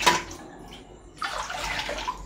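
Water being poured into a wok set on a gas stove: a brief splash at the start, then a steady rushing pour that continues to the end, fairly close.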